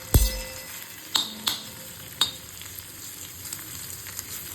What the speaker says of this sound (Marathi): आलं आणि लसूण थोडंसं, हे पण आपल्याला टाकायचं आहे फ्राय करायला